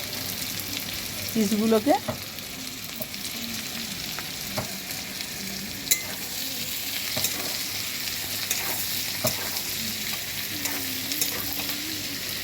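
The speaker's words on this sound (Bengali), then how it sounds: "দেখো তোমরা পেঁয়াজগুলো দিয়ে দিচ্ছে, পেঁয়াজগুলো টুকরো টুকরো করে কেটে আর ছাড়িয়ে নিয়েছে" Chopped onions sizzle and fry in a pan for chilli chicken, a steady crackling hiss with occasional stirring clatters, while someone speaks briefly near the start.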